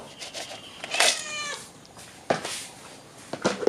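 A hungry stray cat meows insistently at close range, several plaintive, drawn-out cries spaced across the moment with a few soft knocks between them.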